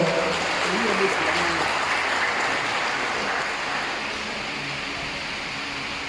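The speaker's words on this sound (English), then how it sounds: "I should have started with a round of applause for them." Audience applause for a drama troupe at an Ashanti festival event, a broad, sustained wash of clapping that gradually fades, with a voice audible briefly at the start.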